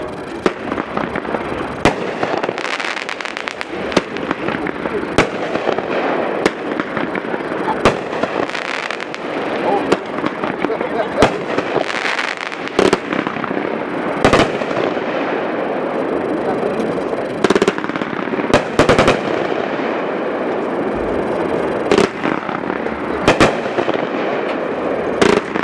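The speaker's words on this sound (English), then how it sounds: "Vixen up next is number 5, Beatzilla, 24 shots," Beatzilla, a 500 gram 24-shot firework cake, fires a rapid string of thumping launches and crackling bursts, loud and continuous with sharp repeated reports, while a voice talks over the barrage.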